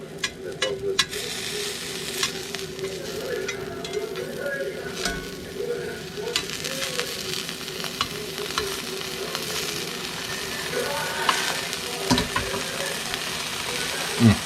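Sausages and vegetables frying in oil in a pan, giving a steady close sizzle with occasional stirring scrapes and light clinks of utensils against the pan.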